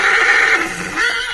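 Horse letting out a loud, shrill neigh after a slap on its rump, one sustained whinny with a wavering tail, close and alone.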